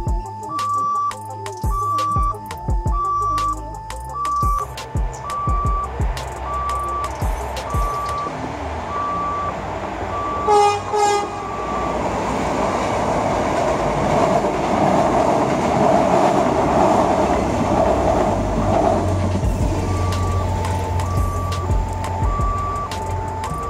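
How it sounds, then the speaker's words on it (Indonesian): A train approaches and rumbles past with clattering wheels at a level crossing in Purworejo, Indonesia, while a repeating electronic crossing bell beeps steadily before and after. "kita tunggu aja kereta yang lewat ya"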